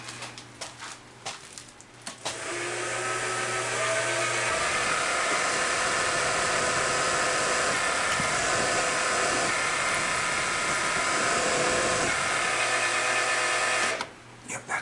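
A power drill whines loudly and steadily for about twelve seconds, starting abruptly and cutting off near the end, with quieter sounds before and after.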